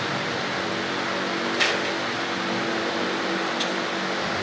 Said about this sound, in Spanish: Pareciera que estamos en un pequeño avión con estos ventiladores.